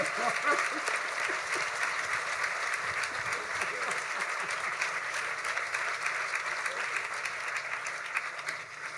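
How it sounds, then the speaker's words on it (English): A luncheon crowd at an award event applauds in a sustained, even round of clapping from many hands, with a murmur of voices mixed in beneath. "Let's give him a big round of applause."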